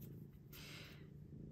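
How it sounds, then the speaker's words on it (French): A domestic cat purring softly and continuously at close range, a low steady rumble with a faint hiss layered over it. "Ah, c'est la fête du ronron, là."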